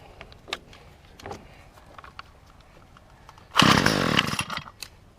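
A choked weed eater engine gives a few faint clicks, then bursts into a loud, rough sputter for about a second before it tails off.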